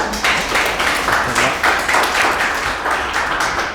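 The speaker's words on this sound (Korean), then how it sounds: "발표해주신 두 분께 큰 박수 부탁드립니다." Audience at a Guro district urban policy idea contest applauds presenters, with many hands clapping in a lively, slightly pulsing rhythm that holds steady and close for the whole stretch.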